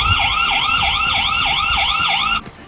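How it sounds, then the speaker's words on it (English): An external alarm siren wired to a CCTV camera security system at a farmhouse wails in a rapid, repeating up-and-down electronic pattern, loud and close by, then cuts off abruptly near the end. "This is external siren."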